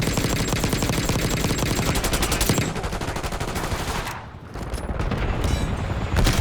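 Sustained Call of Duty gunfire, dense rapid automatic bursts with heavy booms, loud and continuous with a brief lull before firing resumes.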